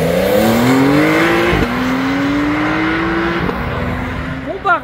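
A trio of sports cars, a Porsche Dakar, a Maserati and a tuned Audi RS6, accelerating away at a supercar meet, loud close engine roar rising through gear changes, with crowd talk underneath.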